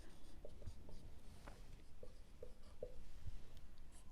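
Chalk or marker scratches out short, faint strokes on a board in a classroom, with scattered taps and squeaks against a quiet room hiss and no talking.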